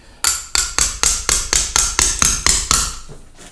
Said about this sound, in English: because it's mallet headed, you can use a mallet with it.